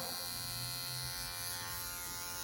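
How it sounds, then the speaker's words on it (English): Hair clipper buzzing steadily and close while it lightly grazes the hair just behind the ear during a taper haircut, a continuous electric hum with no talking. "I'm going to take my clipper open and just lightly graze the bottom of the hair that goes right behind the ear"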